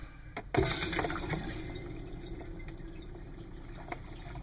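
Water leaking from an RV toilet valve trickles and drips steadily at low volume after a brief knock, with a faint hiss of flowing liquid underneath.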